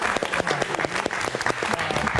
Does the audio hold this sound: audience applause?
yes